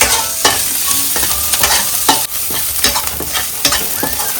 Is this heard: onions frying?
yes